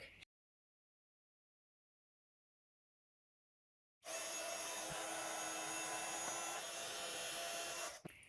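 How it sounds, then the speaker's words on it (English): A heat tool blows steadily while embossing a white sentiment on black cardstock, a loud, even whoosh starting midway after silence and running about four seconds before cutting off. "And then I'm just going to heat emboss that in white"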